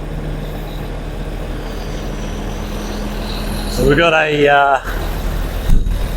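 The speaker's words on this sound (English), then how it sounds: "Big line of cars waiting to get through here." A line of cars and trucks waits in traffic near the ZhaoQing high-speed rail station in China. A steady engine rumble carries a loud, harmonic horn-like blast midway, and someone talks over it.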